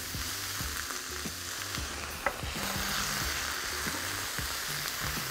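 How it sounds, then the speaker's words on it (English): Diced onions fry in a pan with a loud, steady sizzle and crackle, plus one sharp tap partway through and no speech. "Toss the onions over the pan and get them just nicely browned before you add in the garlic."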